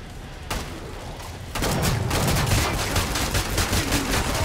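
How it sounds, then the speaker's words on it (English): Shotgun blasts in the video game Killing Floor 2, a quiet pause broken by a loud burst at about half a second, then heavy sustained gunfire with rapid repeated shots and booming low rumble from about 1.5 seconds on. "I might have to use my shotgun"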